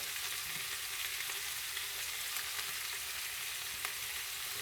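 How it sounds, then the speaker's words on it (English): Cabbage sizzles steadily in a hot pot, a dense, even frying hiss with faint stirring clicks, close and alone without talk. "we're gonna put our cabbage in. Get that on in that pot."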